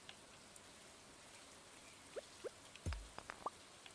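Steady soft rain in the video game Stardew Valley, a faint even patter throughout with a few brief drips and small knocks near the end.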